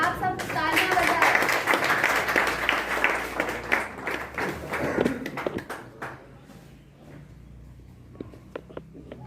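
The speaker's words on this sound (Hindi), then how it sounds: "आप सब तालियां बजाएं।" A school audience claps to welcome the principal at an Independence Day event, a busy burst of hand claps that thins out after about six seconds into scattered single claps, with a voice over it.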